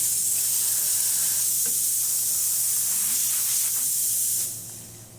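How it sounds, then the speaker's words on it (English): Steam wand on a plumbed-in La Marzocco Linea Mini espresso machine, a steady loud hiss that runs without a break, then eases off near the end. No one talks over it. "and then I'll show you the steam."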